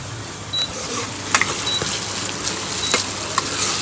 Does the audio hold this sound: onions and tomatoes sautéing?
yes